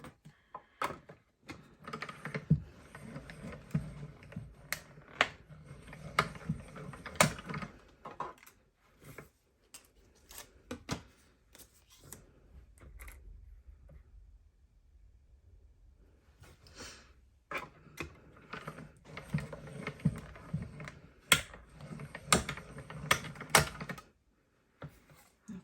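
Stampin' Up! lighthouse dies and a rock die run through a die-cutting machine three times, a series of clicks, cranking and rustles close by, with a quiet gap in the middle before the mechanical handling resumes.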